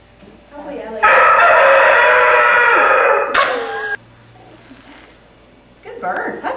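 A loud, close rooster crow rings out in one long, harsh call with a short tail, followed by a quiet pause and then a brief voice.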